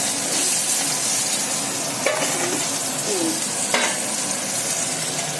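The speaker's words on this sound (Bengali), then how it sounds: "মাছ ভাজা হয়ে গেছে" Fish frying in a pan at home, giving a steady, close, continuous sizzle with a couple of faint utensil clicks and no talking.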